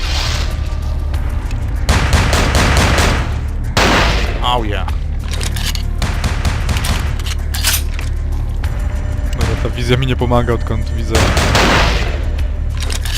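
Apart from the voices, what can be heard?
gunshots in a video game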